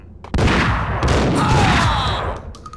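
Sustained gunfire from a firefight in the video game Max Payne, a dense burst of overlapping shots roaring close and loud for over two seconds, with a few scattered cracks trailing off at the end.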